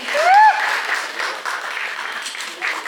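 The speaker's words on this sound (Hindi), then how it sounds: "Ladies and gentlemen, please तालियां रुकनी नहीं चाहिए" Audience applause fills the hall at a television show launch event, sustained steady clapping at moderate loudness after a brief whistle-like electronic tone at the start, with no talk over it.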